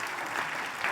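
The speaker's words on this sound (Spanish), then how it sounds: "Denle un fuerte aplauso" Loud applause from a church congregation at a Spanish-language sermon, dense steady clapping filling the space throughout the short burst with no voices over it.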